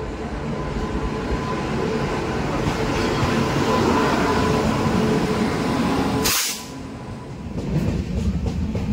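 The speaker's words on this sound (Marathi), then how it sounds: "ट्रेन आली आता." A train rumbles steadily nearby, then a sharp whooshing burst passes and the noise drops to a quieter hum.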